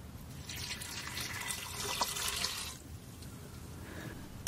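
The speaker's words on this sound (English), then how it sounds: "Now I'm going to add 2 cups of water." Two cups of water pour into an Instant Pot in a home kitchen, a soft, faint trickle and splash for a few seconds that fades, ending with a small knock.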